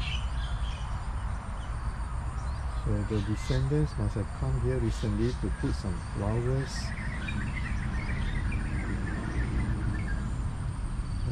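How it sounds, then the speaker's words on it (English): Faint birdsong and insect chirps from trees in a quiet Chinese cemetery, persisting under someone speaking nearby. "I could hear the birds chirping on the trees."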